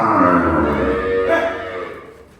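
A dairy cow in Amritsar district gives one long, loud, deep moo close by, fading out toward the end.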